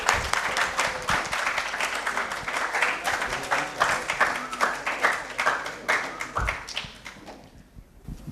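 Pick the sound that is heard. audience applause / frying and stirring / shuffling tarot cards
audience applause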